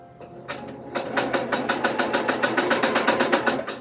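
A Brother sewing machine stitching a quilt, starting up and settling into a steady, rapid mechanical rhythm of needle strokes, close and moderately loud.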